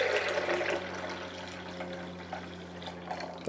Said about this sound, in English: you're gonna add just whatever water